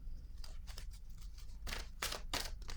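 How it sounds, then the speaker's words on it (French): A tarot card is drawn from the deck with quick papery swishes and rustles, several short brushing bursts in uneven rhythm, close and quiet with no talking. "je vais piger une carte"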